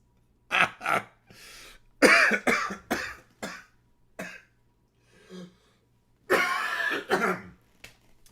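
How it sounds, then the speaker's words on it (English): A series of harsh, close coughs and throat clearing, loud and spaced out in bursts with pauses between them. "Sorry for coughing on the mic there, guys."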